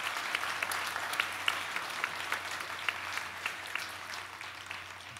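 An audience claps inside a church on Christmas Eve, moderately quiet applause with scattered sharp individual claps forming a steady patter that thins out toward the end.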